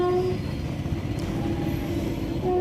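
Train rolling slowly over an old British-era railway bridge across the Yamuna at Prayagraj, a dense, steady low rumble with a sustained tonal hum on top, loud and close, no voices.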